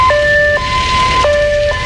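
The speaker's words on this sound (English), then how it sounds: "people say that they've just been hearing the wailing of sirens on a more regular basis" A city emergency siren wails in a steady two-tone pattern, alternating pitches roughly every half second, loud and close over faint traffic rumble.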